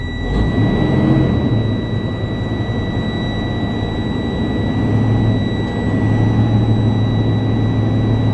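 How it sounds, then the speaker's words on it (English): A truck engine revs hard and steadily to build air brake pressure, a loud, continuous low rumble with a constant high whine running through it the whole time. "I'm gonna mash on the gas to go ahead and help us build up pressure a little bit faster"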